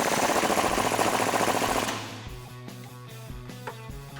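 A 15mm socket loosens a control arm bolt on a 2011-2021 rear-wheel-drive Dodge Charger, with about two seconds of loud, dense, rattling power-tool hammering that cuts off into quieter scattered clicks and knocks.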